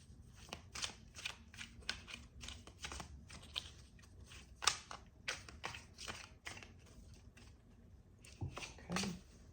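Tarot cards shuffled by hand close up, a quick series of crisp riffling bursts and taps in an irregular rhythm, with only quiet room sound between.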